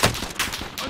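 Hostile gunfire in a video game crackles in a quick burst of several close, sharp shots spaced a fraction of a second apart.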